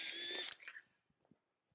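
A power drill with a 1/4-inch bit bores out a hole in a metal hospital plate for a horse's hoof, a loud high whine for about half a second that winds down into faint clicks and handling noise.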